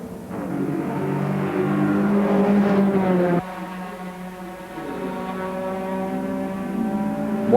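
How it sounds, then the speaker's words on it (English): An Opel race car engine at the 1995 Spa 24 Hours struggles to restart, giving a loud, steady droning whine with shifting pitch that drops sharply midway, then settles into a lower, uneven idle. "Well, they're having trouble starting the engine."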